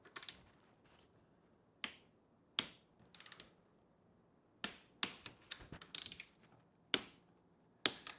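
A torque wrench tightens bolts on a Surron electric bike, giving sharp, close ratchet clicks in short bursts separated by quiet pauses.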